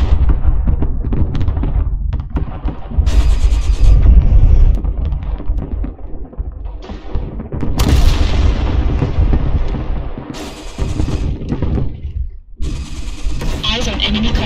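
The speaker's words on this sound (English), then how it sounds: "Artillery strike online." An artillery strike in the MechWarrior Online video game on a desert map, with heavy booming blasts and rumbling impacts rolling in repeated waves that are loud and close, alongside mechanical noise.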